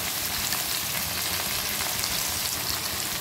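Fish fries in a pan in a Bengali home kitchen, a soft, steady sizzle with dense fine crackling throughout and no voices.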